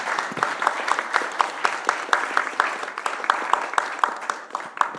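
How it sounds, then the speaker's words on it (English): Audience applause at an international conference panel on Crimea and Ukraine, a steady wash of many hands clapping continuously for the full stretch, fairly close and even in loudness. "Let's give one more round of applause to our panelists."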